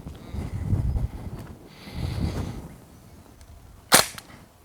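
A TTI Glock 34 electric gel ball blaster fires one sharp, close shot near the end, after a few seconds of low handling rustle and background noise.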